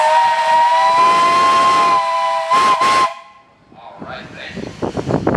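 A steam traction engine's whistle sounds loud and close at a tractor show, one long steady tone broken by a short gap and a second blast, followed by crowd murmur and clapping.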